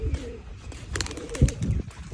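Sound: pigeon cooing

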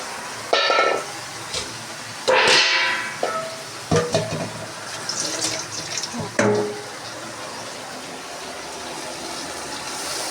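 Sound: pouring water used to rinse mustard blender

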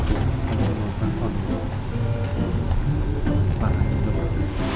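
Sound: heavy rain falling

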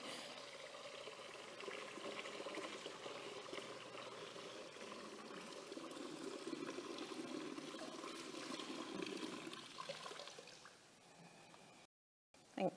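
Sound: water being poured into a baptismal font

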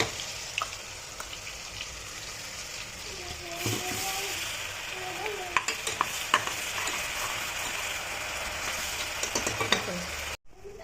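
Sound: chopped onion frying and being stirred in hot oil

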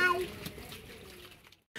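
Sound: water being poured into a tank

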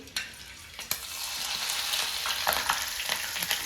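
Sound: chillies frying in oil

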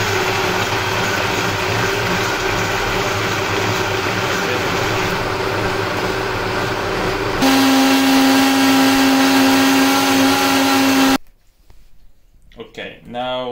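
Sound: Vitamix 2500i blender running on smoothie setting

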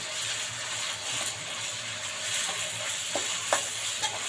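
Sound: stir-frying curry paste in a pan

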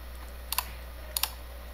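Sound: computer keyboard typing and clicking

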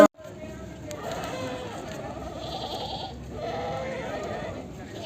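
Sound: goats bleating at market

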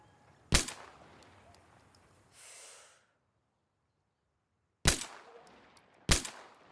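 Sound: pistol gunshots in the video game Insurgency Sandstorm

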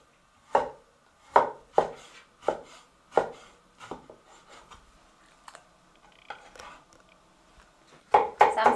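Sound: knife slicing fatty pork into large slices

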